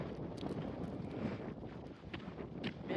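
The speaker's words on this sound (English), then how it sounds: "Can you hear that wind? I hope it doesn't interfere with the video." Wind buffets an outdoor microphone with a steady, low rumbling roar that swells slightly without pausing. It stays fairly faint and unaccompanied by voices.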